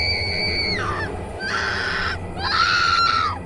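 A woman screams in sharp, high, wavering bursts, three cries in a row with brief gaps between them, loud and close with no talk.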